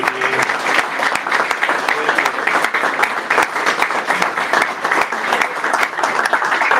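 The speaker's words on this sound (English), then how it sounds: "Now she's clapping" Applause fills the room at a county board meeting as a departing member is thanked, a dense, steady clapping from a small gathering that holds at an even level without pause.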